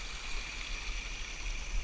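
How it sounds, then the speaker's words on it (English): A creek in Costa Rica flows in a soft, steady rush of water, an even, moderately faint burble with no voices. "This is an incredible creek."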